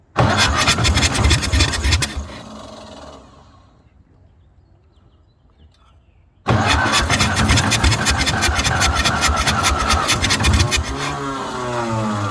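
A 1953 Ferguson TO-30 tractor that sat for 15 years, its engine cranking and sputtering loudly, dropping away into near silence, then catching again abruptly and running rough and loud to the end.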